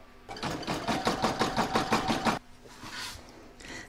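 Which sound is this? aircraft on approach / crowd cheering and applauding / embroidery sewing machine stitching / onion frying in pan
embroidery sewing machine stitching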